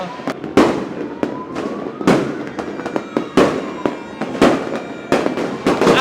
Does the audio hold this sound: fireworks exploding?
yes